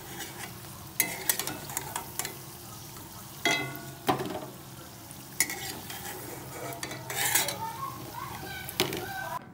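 Fish chops made from lote fish sizzle in a pan, a steady soft frying hiss broken by clinks and scrapes as the pieces are stirred and lifted out one by one.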